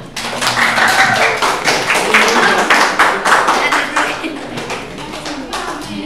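Students in a vocational school classroom clap for a classmate, a dense run of sharp hand claps that continues steadily throughout, with voices mixed in.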